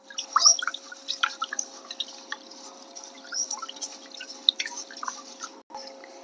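Rice being washed in a large bowl of water, with close, irregular drips, splashes and sloshing as the grains are swirled and rinsed by hand, alone with no talk.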